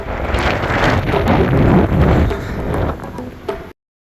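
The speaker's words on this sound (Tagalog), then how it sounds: "Malakas na yung hangin." Strong gusting wind on a mountain buffets the microphone in heavy rumbling blasts, rising and falling before cutting off abruptly.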